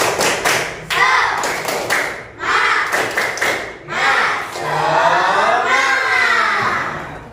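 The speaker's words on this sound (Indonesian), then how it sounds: "Oke, sekarang tepuk semangat." A classroom of children performing a rhythmic spirit clap, sharp patterned bursts of hand claps in quick groups broken by pauses, with kids chanting and shouting loudly along.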